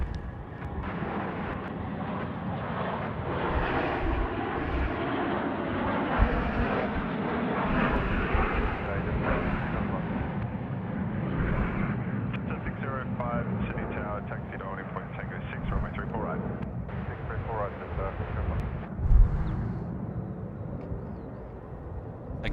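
An airliner departs Sydney Airport for Melbourne, a sustained broad engine roar that holds steady for over twenty seconds with a slight swell near the end, while people talk over it.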